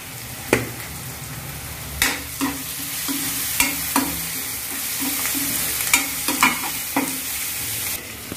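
Garlic, chilli and asafoetida frying in oil with a steady sizzle, punctuated by repeated sharp scrapes and taps of a spoon stirring the pan at irregular intervals.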